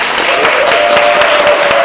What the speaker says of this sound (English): Big round of applause for y'all